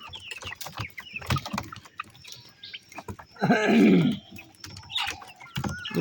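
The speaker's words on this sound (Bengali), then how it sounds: "আর এটা হচ্ছে আপনার যাবে 4 পিস করে মুরগি, একটা করে মোরগ।" Fayoumi hens and roosters in a small sold batch make intermittent clucks and short calls, with a louder burst of squawking midway. The calls are close and uneven, and no one talks.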